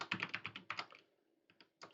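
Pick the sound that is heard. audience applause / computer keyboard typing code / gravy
computer keyboard typing code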